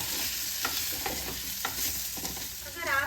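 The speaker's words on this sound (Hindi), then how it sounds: "अब सारी चीज़ों को अच्छी तरह से मिक्स कर लें।" Potatoes being mixed in hot oil for an aloo bhindi sabzi give close scraping stirs over a gentle, steady sizzle, with a few distinct spoon knocks.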